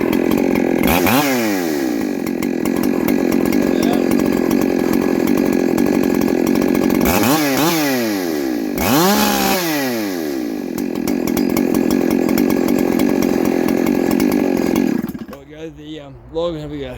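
A Shindaiwa 731sx chainsaw cuts through a log, its engine roaring steadily close by with several sharp revving swells before it drops to idle near the end.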